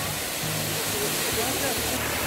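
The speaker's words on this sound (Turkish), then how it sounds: "Evet, Mençuna Şelalesi'deyiz." Rushing water at Mençuna Waterfall makes a steady, dense roar that fills the whole clip, with faint low voices underneath.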